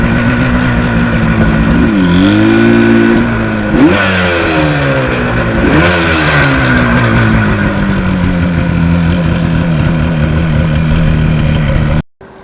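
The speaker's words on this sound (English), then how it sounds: "It was not fun riding in that wind." Yamaha RD400 motorcycle ridden through strong wind, its engine droning loud and steady with several rising and falling revs, heavy wind roar buffeting throughout before cutting off abruptly at the end.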